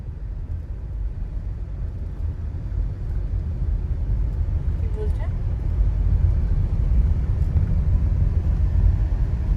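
A car rolls slowly along a scenic road near a barrage in Belpahari, giving a steady low engine and road rumble throughout, close and continuous without speech.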